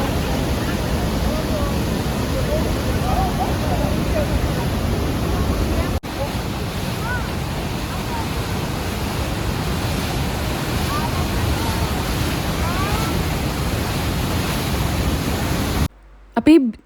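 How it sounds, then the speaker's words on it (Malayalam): Rhine Falls in Switzerland, Europe's largest waterfall, a loud, continuous roar of rushing water with wind buffeting the microphone and a voice talking over it, ending abruptly. "ആ വെള്ളം വന്ന് വീഴുന്ന പോയിൻറ്റില്ലേ"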